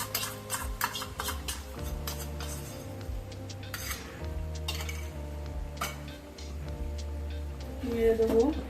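A spoon stirs malai cream into a creamy paneer curry in a pan, with repeated metallic scrapes and clinks against the pan at close range. A soft voice talks quietly over the stirring.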